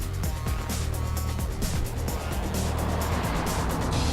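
A Nissan 370Z drives hard on twisty roads, engine roaring steadily with continuous road and wind noise throughout, loud and close without talk.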